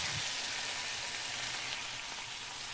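Tomatoes and masala fry in a pan for a beef yakhni pulao, giving a steady, close sizzle and crackle that holds for the whole stretch with no voices over it.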